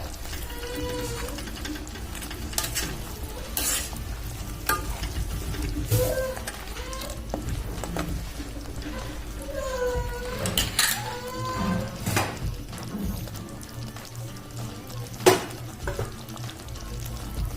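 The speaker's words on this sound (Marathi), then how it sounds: "हे चांगलं मिक्स करून घ्यायचं।" A spoon stirs a mutton curry mixture in a hot pan, mixing it thoroughly; steady frying sizzle with scraping and clinking against the metal, close up, and a voice speaking briefly in places.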